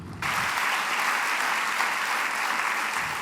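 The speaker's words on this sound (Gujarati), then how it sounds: "તો એકવાર આ વિડીયો માટે જોરદારની તાળીઓ થઈ જાય." Loud, sustained applause from an audience at the grand inauguration of a sports and convention centre, a dense wash of clapping that fills the space steadily for a few seconds with no talk over it.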